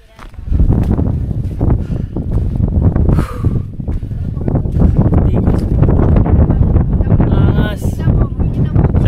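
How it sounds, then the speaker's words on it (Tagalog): Strong gusts near Digos Peak on Mount Apo buffet the microphone in a steady, loud roar for the whole stretch, with a person talking over the noise. "Naririnig nyo ako dito kasi ang lakas ng hangin."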